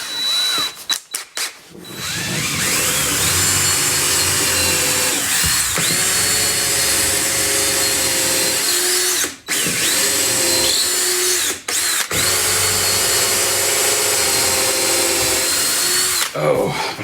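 A power drill whines loudly into wood in long sustained bursts, pausing briefly between runs, with occasional speech in the gaps.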